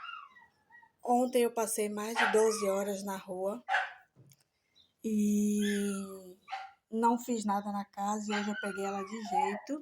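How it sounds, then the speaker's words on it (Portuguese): A dog barks in the background while someone talks steadily over it, the barks blending into her speech. "Desculpem o latido do cachorro"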